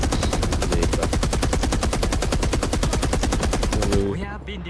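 Rapid automatic gunfire in Rising Storm 2: Vietnam, a loud sustained burst of evenly spaced shots lasting about four seconds before cutting off, followed by brief quiet talk.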